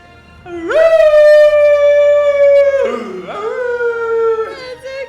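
A voice imitates a dog howling: one long, loud, sustained howl that bends at the end, followed by a second, shorter howl, close up and alone.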